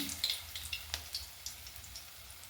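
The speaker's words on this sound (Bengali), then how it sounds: "এইগুলো এইভাবে ভেজে পকোড়ার দারুণ টেস্ট বন্ধুরা।" Soybean vegetable pakoras with beetroot and cauliflower frying in hot oil in a village kitchen, a soft steady sizzle with faint bubbling crackles and a few light clinks, fairly quiet and without talk.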